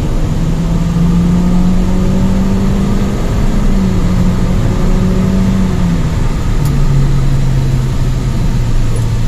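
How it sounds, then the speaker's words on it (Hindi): Steady 2015 Toyota Corolla engine hum while driving at speed, smooth low drone with gentle pitch shifts as it changes gear, no talking. "मज़ेदार गाड़ी की इंजन की आवाज़ बहुत अच्छी"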